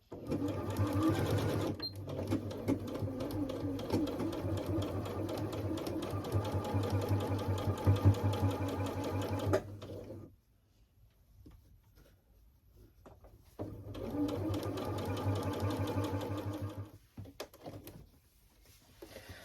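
Sewing machine stitching quilt rows together for a baby blanket, a loud, steady, close mechanical whir in two long runs separated by a quiet pause of several seconds.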